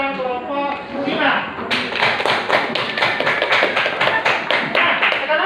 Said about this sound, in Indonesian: kita beri aplaus untuk kelompok 2 dengan kelompok 5